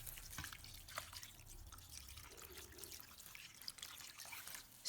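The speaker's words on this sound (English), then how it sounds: "Then pour in water." Water pours and trickles into a bowl of pork ribs seasoned with salt, a faint steady splashing and dripping close by with no talking.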